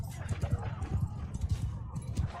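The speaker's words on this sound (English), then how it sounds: "you can't watch me charge horses into water" Cavalry horses charging into water in Mount & Blade II: Bannerlord (Realm of Thrones mod), with a steady drumming of hoofbeats and battle noise running under continuous talk.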